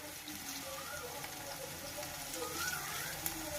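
Onions and egg sizzle in a pan as the onions brown, a steady close frying hiss with faint watery crackle throughout.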